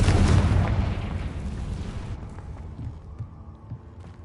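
A Confringo blasting spell explodes near a cave in the Hogwarts Legacy video game: a loud, close boom bursts at the start, then rumbles and fades over the next few seconds.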